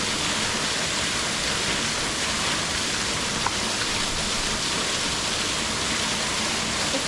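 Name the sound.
jungle waterfall in Brazil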